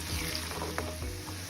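A tempering of green chilli and turmeric sizzles in a pan, a low steady crackle with a faint clink of a spoon.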